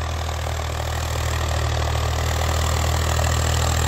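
Swaraj 744 XT tractor engine running steadily with a deep, constant low rumble and idling drone, loud and close, with no voices.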